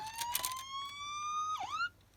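An ambulance siren, apparently from a toy car, gives a steady rising tone and then a quick warbling sweep, faint and alone with no voices.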